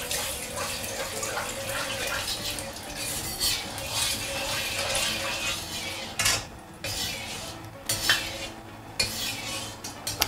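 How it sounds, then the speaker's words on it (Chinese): Oil goes into a hot wok to season it, bringing a sustained sizzle along with clanking of a metal utensil against the pan and sharper scrapes toward the end, no voices. "接下来我们来点油，把锅润一下"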